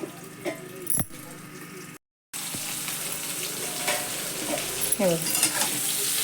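Green chillies frying and being stirred in a pan, a steady close sizzle with spoon scrapes and clinks on top, cut by a brief gap of silence partway through, with no one talking.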